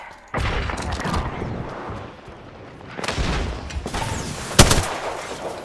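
Gunfire in Apex Legends, a battle royale shooter: loud bursts of automatic fire come in clusters with brief lulls between them, ending in a sharp, heavy shot.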